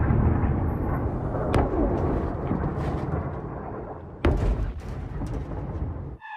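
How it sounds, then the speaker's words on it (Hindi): Missile strike in a war zone: continuous heavy rumbling roar with sharp booms near 1.5 and 4.3 seconds, loud and close, no talk. "ये देखिए जिस तरह से मिसाइल आकर गिरती है, कैसे एक बड़ा धमाका और बड़ी तबाही।"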